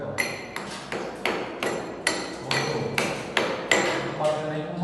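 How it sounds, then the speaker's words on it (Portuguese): Chisel struck repeatedly against crumbling concrete on a structure with a waterproofing failure, about ten sharp, evenly spaced metallic blows close by, each with a short ringing tail. "Não pode nem com martelo, é com a talhadeira."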